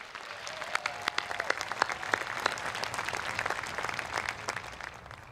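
At a high school graduation, a large crowd gives steady, fairly distant applause for the student speakers, a sustained wash of many hands clapping with no talk over it.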